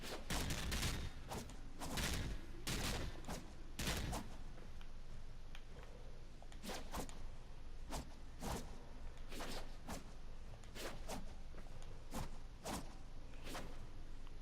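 Kogake Prime melee combo Rushing Fire in the Warframe game, a rapid series of sharp punching and kicking impacts in bursts with brief pauses, loud and close, with no talk.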